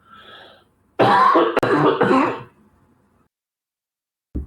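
A single harsh, rough cough from a man with a flu bursts out close by after a faint breathy throat sound, followed by silence and a brief clipped noise at the end.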